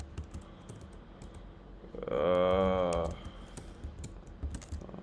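Rapid keystrokes on a computer keyboard, a dense clicking burst lasting about a second near the middle, with scattered lighter taps before and after and a spoken word at the start.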